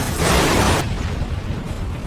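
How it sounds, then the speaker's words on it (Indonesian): A loud, roaring burst as a crashed car explodes, followed by a rumbling, crackling tail that lingers close by. "hingga akhirnya mengalami kecelakaan dan meledak"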